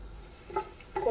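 Whole spices, cinnamon stick and black peppercorns, sizzle softly in hot oil in a pot while a spoon stirs them, giving two brief scraping, crackling bursts close by.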